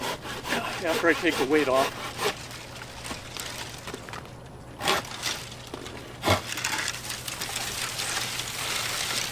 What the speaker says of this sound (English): I'm going to make a cut farther away from the tree